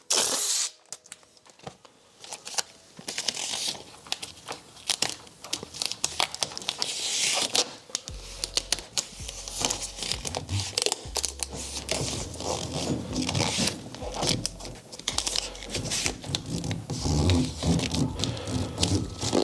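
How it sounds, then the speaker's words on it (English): Masking tape is peeled and pressed along the sealer edge of a car door jamb. Near, steady crinkling, tearing and scraping continues for about twenty seconds, and a low rumble joins partway through. "I usually like to put the tape directly on top of the sealer edge"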